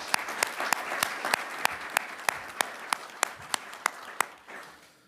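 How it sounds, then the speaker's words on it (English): A small gathering at a council swearing-in meeting claps for newly elected councillors, with a handful of distinct, sharp claps standing out over a soft patter that fades away within a few seconds. "And one more round of applause for the newly elected councillors."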